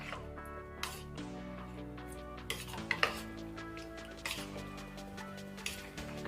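Cucumber pieces mixed with a spoon in a bowl for a salad, irregular light clinks and knocks of metal against the bowl and a few louder taps, close and quiet with no talking.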